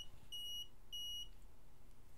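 An Arduino-built clock alarm sounds two short, steady electronic beeps about half a second apart, faint over a quiet background hiss.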